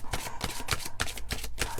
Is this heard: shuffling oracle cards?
yes